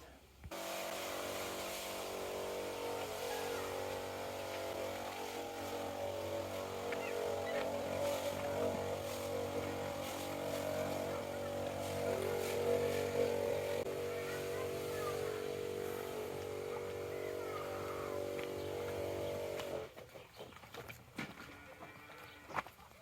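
A motorized sprayer applies an anti-stress treatment inside a small greenhouse of watermelons, cucumbers and tomatoes. Its close, steady engine drone runs unbroken for about twenty seconds, then cuts out, leaving faint handling noises.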